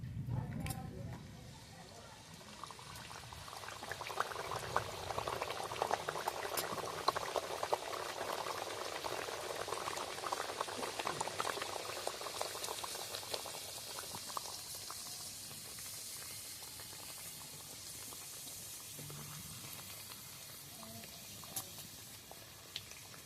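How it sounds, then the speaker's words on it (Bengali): Puris made from masoor dal dough deep-frying one at a time in hot oil in a wok on a stove, a steady soft bubbling and crackling sizzle that swells after the start and continues evenly throughout, with faint background sounds. "এবার আমি এক এক করে পুরিগুলো ভেজে নেব।"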